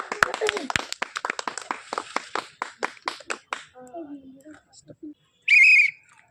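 Steady, repeated hand claps from a group keep time during a vegetable-picking challenge game, then fade into quiet talk before a single loud whistle blast.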